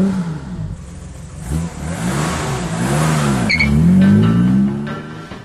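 A BMW M car, a 3.0 CSL, accelerates on a test drive with its engine revving loudly through rising and falling sweeps and gear changes, close and steady throughout with no talking.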